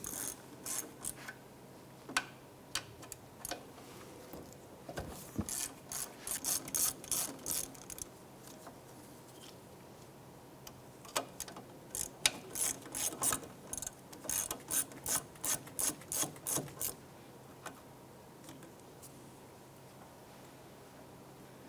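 Brake caliper slide pins on a 2001-2007 Ford Escape being loosened with a number 7 Allen wrench, giving repeated bursts of quick metallic clicking and ratcheting with short pauses between, close and fairly quiet.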